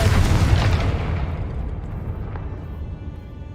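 A Confringo fire spell explodes in the Hogwarts Legacy video game: one loud, broad blast with a heavy low boom that rolls on as a long, fading rumble, with no voices.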